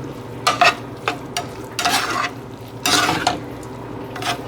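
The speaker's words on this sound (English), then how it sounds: "I'm just gonna fluff it up so you can see what it looks like." Cooked rice pilaf being fluffed in a pot: several short scraping, stirring strokes with a light scratchy rustle, separated by brief pauses and fairly close.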